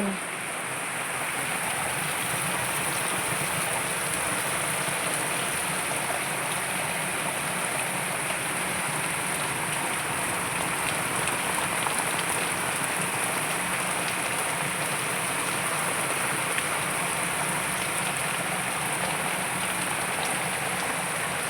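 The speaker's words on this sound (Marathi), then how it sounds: "तिथं गळते तिथं जोरात पाऊस" Heavy rain pours down on a leaking house in a steady, dense hiss that stays loud and unbroken throughout, with no voices.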